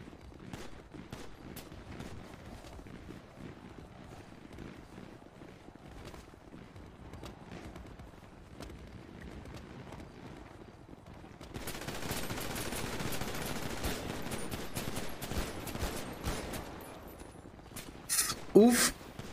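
Rapid bursts of gunfire in a GTA roleplay game, a sparse stream of shots at first, then a dense sustained barrage in the latter half, with a voice talking over it.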